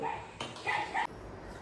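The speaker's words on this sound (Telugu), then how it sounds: "కుక్కలు, దట్ ఈస్ ద కుక్కలు" Dogs give a few short, fairly faint yips and whimpering barks in quick succession, with steady background noise around them.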